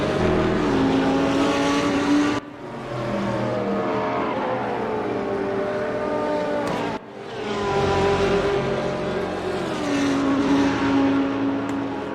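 Race car engine in RaceRoom Racing Experience, likely a Bentley, loud and close, climbing through gears with two clear shift drops and a rising whine between them.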